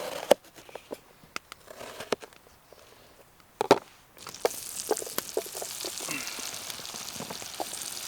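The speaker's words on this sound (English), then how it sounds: "I'm just gonna cut some larger chunks of onion." A knife chops an onion into large chunks on a board, with a series of irregular sharp knocks that turn busier and denser in the second half over a faint sizzle.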